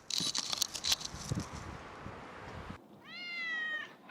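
Rustling and light scuffling sounds give way to a single clear, drawn-out cat meow nearby.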